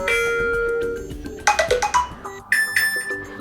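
A bright electronic ringtone melody plays from an iPhone 12 Pro Max in short chiming phrases, starting soft and growing louder partway through.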